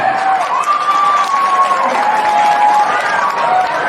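A crowd at a school Language Month readathon event claps and cheers loudly and steadily, with a whistle or shrill voice rising above the noise.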